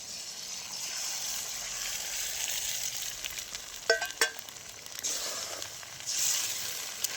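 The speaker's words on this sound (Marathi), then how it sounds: "आता फोडून घेतलेले अंडे टाकून घेते" Cracked eggs sizzle and fry in a pan on a wood-fired stove, a steady close hiss with a few sharp spatters and scraping stirs partway through.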